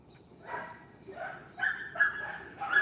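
Neighborhood dogs bark and yip on a quiet evening in the Philippines, several short bursts from a moderate distance over a low background hum.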